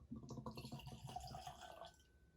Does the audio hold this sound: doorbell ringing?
no